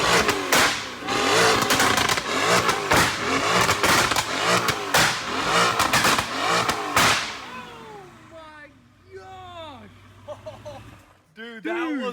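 A Mercedes-AMG GT S in race mode revs hard, its engine roaring loudly with rapid cracks and pops from the exhaust, then drops away to quieter idling with brief voices near the end.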